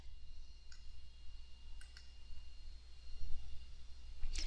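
A few faint, sharp computer mouse clicks, spaced irregularly, as the Submit button is pressed on a staff-records form in testing management software, heard over a low steady room hum.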